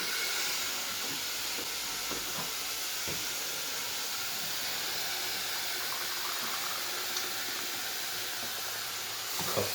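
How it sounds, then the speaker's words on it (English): A constant loud hiss and steady bubbling from a chicken and vegetable curry pot on high heat, with no talking. "everything's going to start bubbling,"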